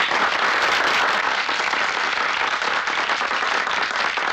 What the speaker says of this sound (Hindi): तालियां मत बजाइए